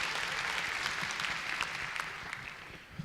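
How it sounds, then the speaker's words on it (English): Steady audience applause welcomes a speaker at the opening plenary of an international conference, a dense, even roar of many hands clapping in a large hall, easing slightly as it continues. "Oh with a big applause of."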